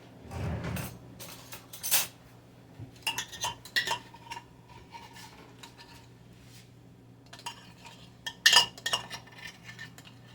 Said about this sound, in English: let's see if I can scrape a little more out of this can